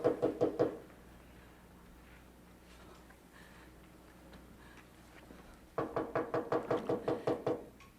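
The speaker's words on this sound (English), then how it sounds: "That knock on the door and..." Rapid knocking on a door comes in two bursts, one brief at the start and a longer series of about ten raps near the end, with a quiet room between.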